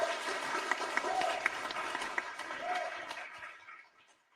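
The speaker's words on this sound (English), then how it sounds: "give her a round of applause" University lecture audience applauding as a speaker is called to the stage, a crowded burst of clapping with a few cheers that swells and then tapers off toward quiet.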